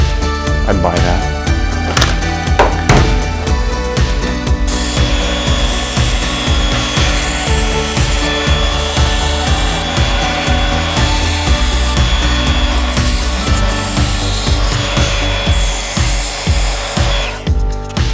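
Corby bolt pin being cut off on a custom Damascus hunting skinner knife handle: a rapid, rhythmic rasping saw stroke, close and continuous for the whole stretch, after a few sharp knocks at the start.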